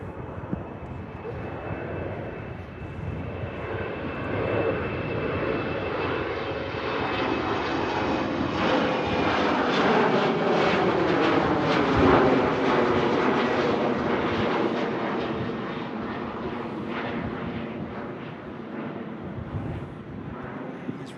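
Finnair airliner departing Manchester Airport for Helsinki on a gusty day, its jet engines a loud sustained roar that swells to a peak and then slowly fades as it climbs away, with wind buffeting the microphone.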